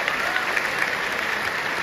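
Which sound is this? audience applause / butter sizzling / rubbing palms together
audience applause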